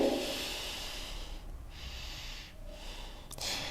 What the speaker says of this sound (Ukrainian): Дихаємо через ніс.